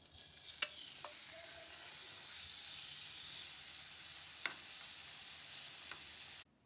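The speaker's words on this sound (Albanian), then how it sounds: "Në një tigan të nxehtë me vaj ulliri shtojmë pulën." Chicken pieces frying in hot olive oil in a pan, a steady close sizzle broken by a few sharp clinks of a utensil against the pan, then cutting off abruptly at the end.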